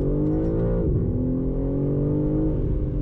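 A current BMW M3 with a turbocharged engine pulls hard in second gear, a loud, steady engine drone rising in pitch, briefly dipping at a shift-like point and then climbing again, heard from inside the car.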